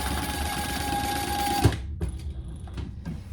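A sewing machine stitches a divider line across a handbag's card slots, running in a steady continuous whir for about a second and a half before stopping abruptly, followed by quieter handling noises.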